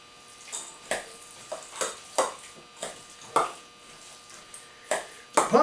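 Raisins being mixed into a savory pumpkin pie filling, a series of about a dozen soft, wet squelching strokes at an uneven rhythm, close by with no talking.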